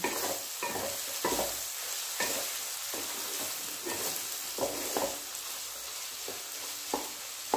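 Vegetables for pasta fry in oil while being stirred, a continuous sizzle broken by regular scraping strokes of a spatula roughly every half second, close and clear.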